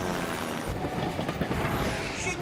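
A cartoon train rumbles along with a steady rolling clatter, loud and continuous throughout the short stretch, with faint voice-like sounds mixed underneath.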